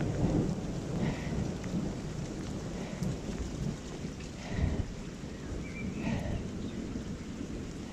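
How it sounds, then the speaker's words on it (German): Heavy rain pours steadily onto a hillside farmyard and runs off. Low thunder rumbles roll through it several times, with no voices. "Das ist der reine, blanke Regen, der hier runterkommt."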